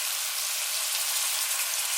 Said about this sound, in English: Same when you're frying any meat.